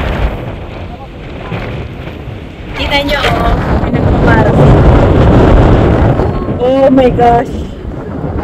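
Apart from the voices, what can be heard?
strong wind at World's End, Norway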